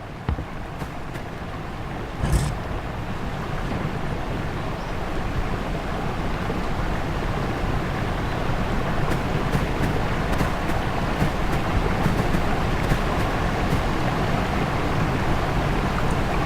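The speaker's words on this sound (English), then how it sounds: "It's just a small branch of the waterfall." Small branch of a waterfall in The Dark Eye: Memoria, a continuous broad rushing wash of water, steady and fairly close, with a few faint clicks on top.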